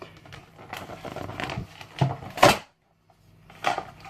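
A McLaren P1 collectible model's box is opened with a series of close cardboard and plastic rustles and crinkles, a sharper snap or two, then a brief silence and one more rustle.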